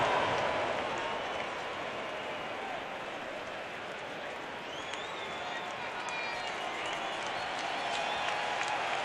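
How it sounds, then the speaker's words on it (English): Huge baseball playoff crowd in Cleveland cheering and applauding, a dense, sustained roar of clapping and shouting from the stands with faint announcer talk in the background. "Huge crowd obliging."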